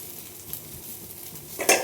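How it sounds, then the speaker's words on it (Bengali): Ginger garlic paste fries quietly in a pan, a faint, soft sizzle with light stirring scrapes, then a louder clatter of a utensil near the end. "আদা রসুন বাটাটাকে আমি একটু ভেজে নেব যাতে কাঁচা গন্ধটা চলে যায়"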